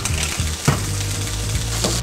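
Black Sea mussels sizzle and crackle in hot olive oil in a pan, a steady close frying hiss with a few soft stirring knocks.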